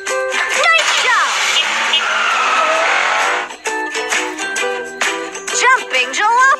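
Cartoonish old jalopy driving in a children's math puzzle game, a busy run of bouncy engine, squeaky and rattling effects with quick tonal blips layered over it, loud and continuous for several seconds.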